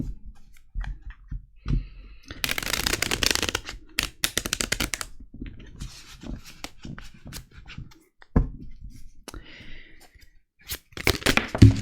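Oracle cards being shuffled and drawn for a six-card tarot-style reading: brisk riffling bursts of cards with crisp flicks, snaps and soft slaps as cards are laid down, close and dry, some quick clicks between.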